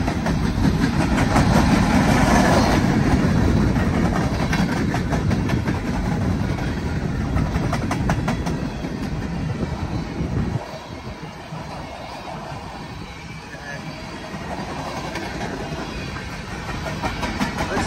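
A BNSF empty coal freight train led by two ES44AC locomotives rumbles past steadily with rolling wheel noise and clatter, loud at first, then easing to a lower, steady roar as it continues.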